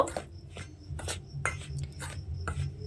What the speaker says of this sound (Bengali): এইভাবে শুকনো উপকরণটা চালের গুঁড়ি, ময়দা আর নুনটা খুব ভালোভাবে মিশিয়ে নিলাম